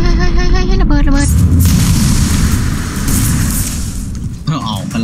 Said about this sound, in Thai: ระเบิดระเบิด